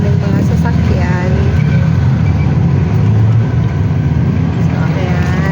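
Busy road traffic in Angeles City heard from inside a moving car, a steady loud rumble of engines and tyres with a person talking over it throughout.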